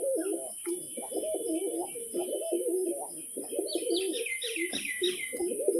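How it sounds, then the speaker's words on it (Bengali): A male pigeon, a crested biscuit-coloured tumbler, gives repeated low, throaty coos in rolling bursts, close by, with faint higher chirps from other birds joining partway through. "কীরকম গরম পায়রা ডাক করছে নটটা"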